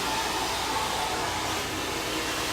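A blow dryer running during a hair blowout gives off a steady, loud, broadband whoosh that holds level and unbroken throughout.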